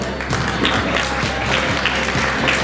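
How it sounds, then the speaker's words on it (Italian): A crowd applauds steadily at a beauty pageant, dense clapping filling the whole stretch at a lively, even level. "Un grande applauso!"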